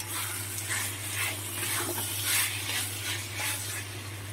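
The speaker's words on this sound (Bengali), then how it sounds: "সেদ্ধ করে চটকে রাখা ডুমুরটা এর মধ্যে দিয়ে ডুমুরের সাথে মশলাগুলো ভালো করে কষিয়ে নেব আরও বেশ কিছুক্ষণ" Spice masala and boiled, mashed figs sautéing in a pan, a steady close sizzle with rhythmic stirring swishes and a low constant hum beneath, no talking.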